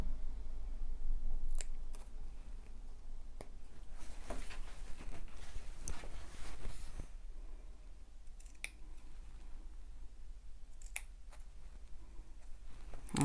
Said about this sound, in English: the tops I'm just going to snip a little bit of the fabric away to reduce the bulk there